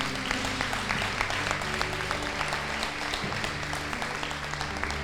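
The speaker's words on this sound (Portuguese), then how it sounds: "A salva de palmas para Jesus." A church congregation claps for Jesus in steady, dense applause lasting throughout, with a sustained low musical drone beneath and no voices standing out.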